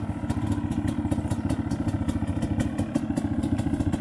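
A small dirt bike engine idles and revs at close range, its steady rapid firing pulses running alone without talk.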